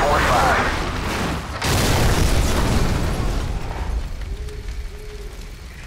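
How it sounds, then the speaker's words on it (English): A loud explosion from an incoming missile strike in Call of Duty 4 booms up near 1.7 seconds and rumbles on over continuous battle noise, then fades into a quieter hum with a faint tone. "Incoming missile!"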